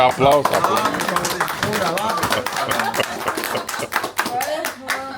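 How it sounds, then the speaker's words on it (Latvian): A small group claps in a rapid, uneven burst of applause that holds steady for several seconds, with voices and a child's speech mixed in among the hand claps at a care centre workshop. "Aplaus."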